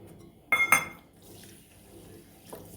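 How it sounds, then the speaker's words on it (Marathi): A bowl of basmati rice is rinsed in water, giving a short burst of splashing and sloshing near the start, then a quiet trickle and a faint later splash. "तोपर्यंत तांदूळ धुवून घेणार आहोत"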